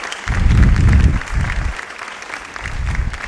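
A live audience at a cooking demonstration in Craigavon breaks into loud, close applause that surges, briefly dips, then picks up again in shorter bursts.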